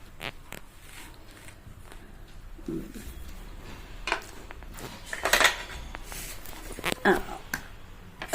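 Ceramic bowls, plates and a tray bought at a shopping exhibition being handled, with scattered clinks, light knocks and rustling at close range over a quiet background, louder taps toward the end.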